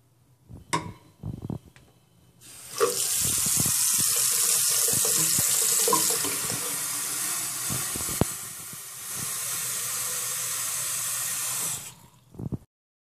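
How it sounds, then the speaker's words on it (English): Water gushes at high pressure from a tap into a bottle in a strong, steady stream for several seconds, with clunks and handling noises before and after. "when we release the water from the tap at high pressure"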